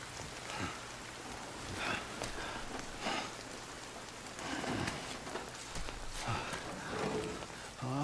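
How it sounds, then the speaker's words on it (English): Steady rain falls in the video game Death Stranding, a continuous hiss of drops on surfaces with soft irregular patters and thuds, heard alone at moderate level. "Is it because of the rain?"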